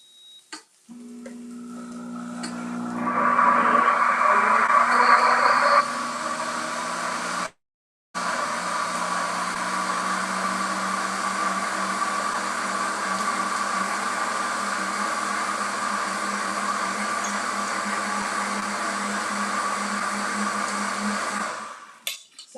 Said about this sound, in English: My food processor is on.